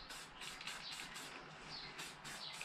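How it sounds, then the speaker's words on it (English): A steady hiss of aerosol cold galvanizing paint sprayed onto a Toyota FJ40 chassis in several close bursts, each short blast pausing briefly before the next, with no talking. "We'll just give it a spray."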